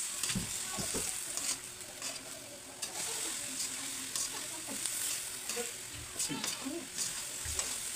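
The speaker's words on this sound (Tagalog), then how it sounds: "hahalin po natin para mag-mix" Food stirred in a frying pan during home cooking of a dinner dish, with a steady sizzle of frying underneath and scraping, clattering strokes of a utensil against the pan recurring every second or so.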